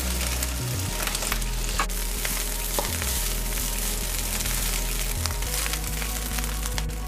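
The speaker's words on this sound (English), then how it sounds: "the chicken is finished frying for the fried rice." Oil sizzles and crackles steadily as chicken fries in a pan for fried rice, loud and close, with occasional scraping and stirring clatters.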